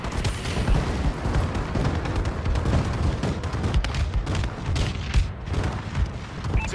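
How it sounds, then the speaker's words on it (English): Dense, continuous rumbling explosions and booms from a bombing run in Call of Duty: Advanced Warfare multiplayer, loud and sustained throughout with many overlapping sharp blasts and no break. "Enemy bombing run incoming."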